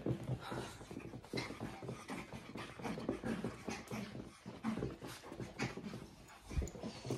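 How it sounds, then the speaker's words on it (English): Dogs pant rapidly and let out soft whimpers close by indoors, a steady, breathy rhythm with occasional whiny sounds and no talking. "These dogs are driving me absolutely batty."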